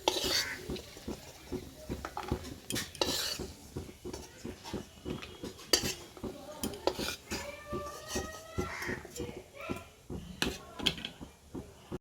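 Fried cashews and raisins scooped out of a wok with a metal spatula, a series of quick clinks and scrapes against the pan, fairly quiet and close, with a voice speaking briefly.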